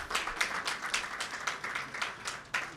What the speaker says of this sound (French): Est-ce qu'on peut applaudir pour eux pour sortir justement de ce débat?